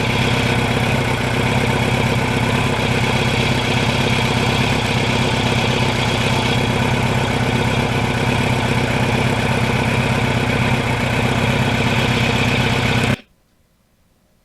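Loud, close idling of a restored 1989 Kawasaki Ninja GPX750R motorcycle engine, a steady throbbing rumble that holds without change before cutting off abruptly.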